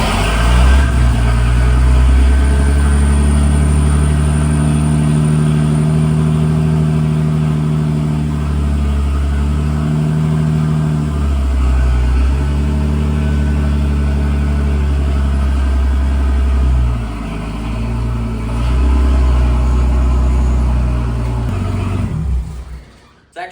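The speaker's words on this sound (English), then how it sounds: "This thing kind of starts up rough, but hopefully it starts." A Ford F100 pickup engine runs rough at idle, a loud, close, low rumbling drone with uneven surges in pitch, continuing steadily before cutting off abruptly at the end.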